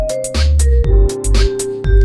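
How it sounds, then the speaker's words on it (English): Vibraphone-like mallet tones with small-room stereo reverb layered over a pulsing electronic beat, with deep bass thumps and bright, airy hits in a steady groove; the tones ring clearly and sit close and loud in the mix. "Now, this is a tone that I could really enjoy out of a vibraphone."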